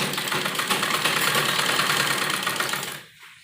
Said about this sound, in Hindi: पूरा कपड़े को बाजू के और कुर्ते के मिलाते हुए सिलाई लगानी है।